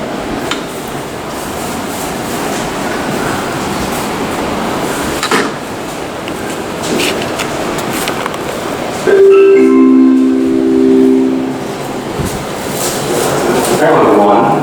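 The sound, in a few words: New York subway 7 train at 69th Street station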